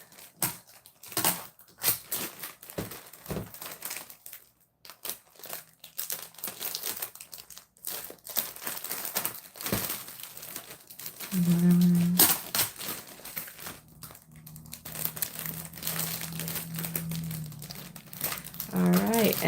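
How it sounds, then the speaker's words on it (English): Paper and craft materials crinkle and crumple while tape is pressed down around the corners and bottoms of a Tootsie Roll piggy bank, with close, busy rustling bursts and someone talking throughout. "I'm going to tape these bottoms under. Tape down the corners."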